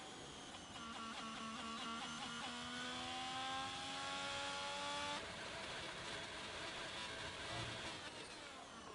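A race car engine in a Formula-style racing video game revs steadily, rising in pitch through a long climb before dropping back to a rough, uneven idle, loud and alone with no talk.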